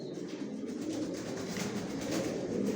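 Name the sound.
Giribaz and Chila pigeons cooing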